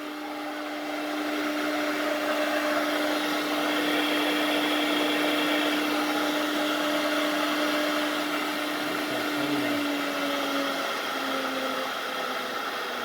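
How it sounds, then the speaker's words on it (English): The spindle of a 2018 Baileigh WR84V machine spins up after a brief quiet start and then runs at a constant speed, a loud, steady mechanical whir with a clear humming tone that holds level to the end. "Turn the spindle off."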